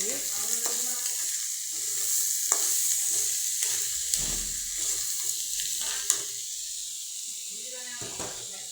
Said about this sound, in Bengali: ভালো করে চাল ভাজতে হইব।